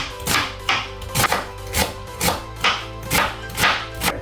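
A knife chops fresh red callaloo on a board in a Jamaican garden kitchen, about nine steady, evenly spaced close cuts in a regular rhythm, with no talking.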